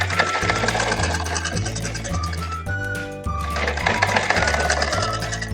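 A sewing machine stitches a party wear blouse, a close, steady mechanical chatter with rhythmic thumping that runs continuously, with no talking over it.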